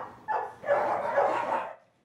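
A dog barks and whimpers in a couple of close, loud bursts lasting over a second, with no talking over it.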